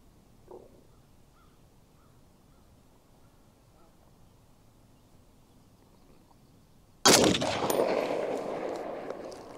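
A Springfield Armory M1A walnut-stock rifle fires a single loud shot after a long quiet stretch, the sharp blast followed by a few seconds of decaying echo; a brief faint noise sounds earlier.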